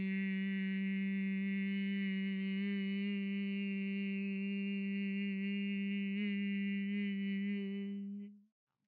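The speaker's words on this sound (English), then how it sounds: "Breathe in through your nose and hum as you exhale." A steady human hum on one low pitch, carried on a long exhale during a breathing exercise, clear and close, holding for about eight seconds before fading out.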